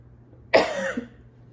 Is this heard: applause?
no